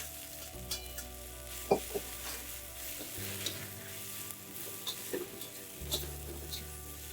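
Ginger and aromatics hiss and sizzle as they are stir-fried in a hot wok for a Hong Kong dai pai dong stewed fish head with ginger and scallions, with a steady frying hiss broken by utensil clinks and scrapes, close and moderately loud, no talking.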